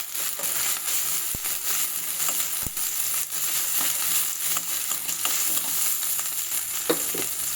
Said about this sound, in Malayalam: നമുക്കൊന്ന് ഇളക്കി കൊടുക്കാം